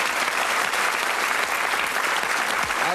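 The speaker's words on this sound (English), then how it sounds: "we'll give her a special round of applause" A game show studio audience bursts into loud, dense applause that holds steady and close throughout, with a few scattered cheers mixed into the clapping.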